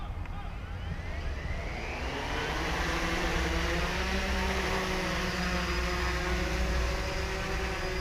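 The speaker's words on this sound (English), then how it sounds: "Okay, so I will do the 1 key takeoff." A quadcopter drone spins up its rotors and lifts off, starting with a rising whine. A steady, close, loud whirr of the propellers follows as it hovers.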